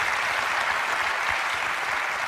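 A studio audience at a Ricky Gervais comedy show claps in a steady, even patter, soft and somewhat distant, holding without pauses for a couple of seconds.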